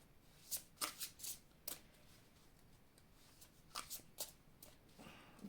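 Tarot cards being shuffled and drawn, with quick soft riffling bursts and flicks in two clusters separated by a pause, close and quiet.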